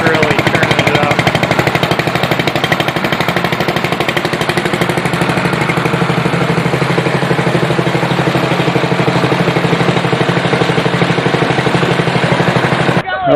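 A 4-stroke 14 horsepower gas engine mounted on a 1957 Evinrude 18 horse outboard tower runs loudly and steadily with a fast, rough, rattling chug that continues unbroken, then cuts out at the end.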